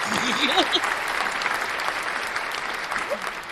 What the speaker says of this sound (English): And there go your round of applause.